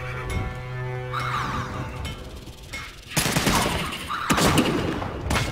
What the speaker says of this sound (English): That sniper rifle almost got me.